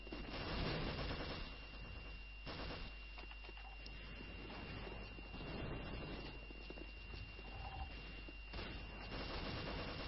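MP5 submachine gun fire in a first-person shooter, with rapid bursts of shots crackling steadily over a dense, compressed wash of match noise and scattered other gunfire.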